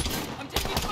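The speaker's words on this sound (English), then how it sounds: "I'm taking fire." Rapid gunfire from the Warzone video game, a dense burst of shots close and loud, running throughout with no clear pauses.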